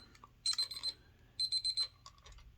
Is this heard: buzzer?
yes